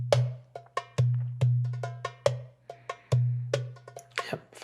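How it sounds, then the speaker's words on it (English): A sampled darbuka, the Middle Eastern goblet hand drum, plays a quick rhythmic pattern of sharp slaps and deep resonant strikes, close and dry with no voices. "This is the darbuka."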